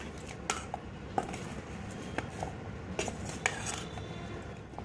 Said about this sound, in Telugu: సో ఇప్పుడు ఇవన్నీ ఒకసారి కలుపుకుందాం బాగా